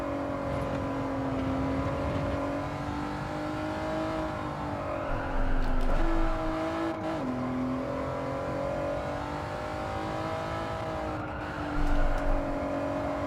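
A race car in Gran Turismo 7 accelerates and shifts through gears, its engine whine climbing and dropping in pitch with brief surges of louder rumble, steady and continuous with no voices.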